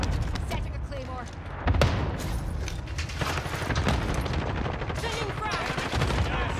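Cluster strike explosions in Call of Duty pound in a rapid barrage of thuds and booms, mixed with rattling gunfire, while players' voices talk over the chaos.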